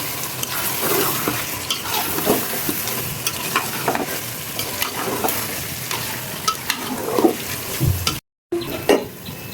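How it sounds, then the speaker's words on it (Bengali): Meat for biryani braises in spices in a pot while being stirred, loud close sizzling with repeated scraping and clinks of a utensil against the pot, a brief dropout near the end. "পুরোপুরি মাংসটা কষানো হয়ে গেছে"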